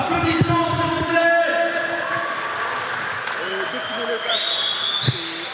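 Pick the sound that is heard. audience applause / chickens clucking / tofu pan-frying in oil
audience applause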